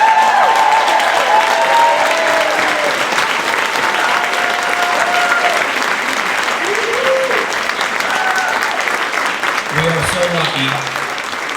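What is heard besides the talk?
audience applause at an athletics celebration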